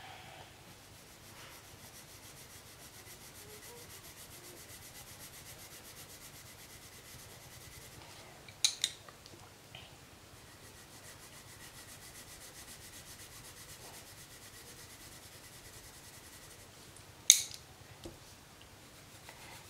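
Coloured pencils shade paper layer by layer, giving a faint, steady scratchy rubbing that runs quietly throughout, broken by a couple of brief louder taps.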